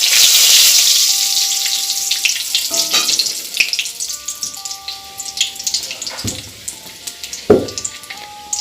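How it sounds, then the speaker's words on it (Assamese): Chili, panch phoron and bay leaf fry in hot oil over a medium flame, a loud crackling sizzle that bursts at first and then settles into steady spitting with a few sharp pops. "জলকীয়া দিছোঁ, পাঁচফোৰণ, তেজপাত,"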